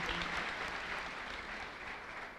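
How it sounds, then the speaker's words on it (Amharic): Church congregation applauding, a dense continuous wash of many hands clapping at steady volume, slightly easing toward the end. "አጨብጭቡ በደንብ ስታጨበጭቡለት"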